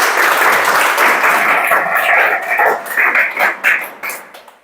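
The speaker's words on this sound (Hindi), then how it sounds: "किताब के लिए एक बार जोरदार ताली।" A classroom audience claps loudly for a book, in a dense burst of applause that thins into scattered, uneven claps before fading out, with some voices mixed in.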